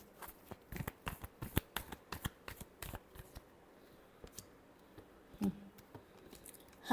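Tarot cards being shuffled by hand, a rapid series of crisp riffling snaps and soft flicks in bursts, close and quiet, with a pause near the end before a final few snaps.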